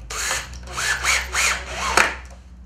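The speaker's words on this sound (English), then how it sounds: "I just put it on that base there, whiz in the screws." A power drill whizzes screws into pallet wood for a fishing rod rack, several short rising whines in quick succession, close and fairly loud, ending with a sharp knock.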